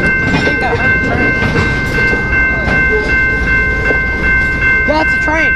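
A train rolls into Slaton, Texas, loudly and steadily, wheels clattering and squealing at intervals, with a constant high-pitched whine above the rumble.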